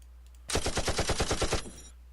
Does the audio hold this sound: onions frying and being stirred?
no